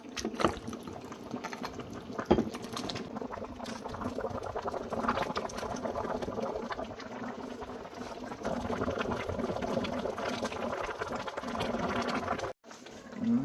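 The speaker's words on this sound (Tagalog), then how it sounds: "pamatian ta na kuno ka tunog ang bukal na" Bulalo beef soup bubbles in a pot, giving a continuous soft gurgling and popping simmer that stays steady and close throughout.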